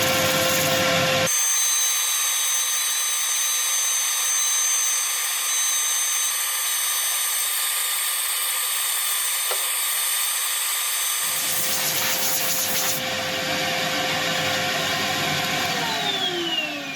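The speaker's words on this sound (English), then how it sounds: "all ready for sanding." Sandpaper pressed against a spinning segmented wooden bowl on a woodturning lathe gives a steady, loud whirring hum from the motor and the rubbing abrasive, with the tone and pitch shifting near the end and no talk over it.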